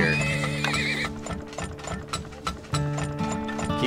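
A horse whinnies loudly over a busy layer of game sounds, with clopping hooves and mechanical clicking running underneath.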